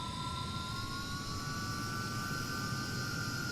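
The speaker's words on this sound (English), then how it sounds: "I will say that howl is very typical of the Avon engines." A Hawker Hunter's Rolls-Royce Avon jet engine, simulated in Microsoft Flight Simulator, holds a loud, steady howl with a sustained high whine riding over a rough low rumble, continuous and without speech.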